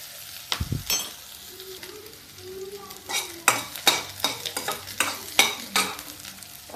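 Onion and spices cook over a low gas flame while a spoon scrapes and clinks repeatedly against the pan, a quiet sizzle running underneath the rhythmic stirring strokes.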